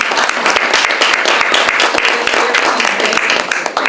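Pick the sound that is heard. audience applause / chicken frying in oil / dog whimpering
audience applause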